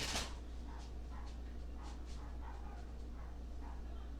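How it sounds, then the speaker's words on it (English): A neighbor's chihuahuas yapping in a small side yard, a string of about eight high, sharp barks spaced irregularly, faint and somewhat distant over steady background hum. "My neighbor's dogs are barking in the side yard."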